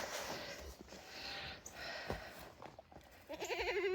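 Goats bleating at a farm as they wait to be fed hay, a few wavering cries over a steady noisy background, with a clearer, louder bleat rising near the end.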